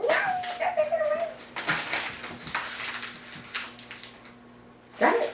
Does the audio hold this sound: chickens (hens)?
no